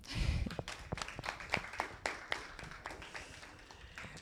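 An audience at a university political science orientation fair claps, with many sharp overlapping claps close by that thin out and soften over a few seconds.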